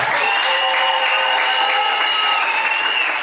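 Wedding guests at a church ceremony break into sustained applause, a dense, steady wash of clapping from a crowd that carries on evenly without pause.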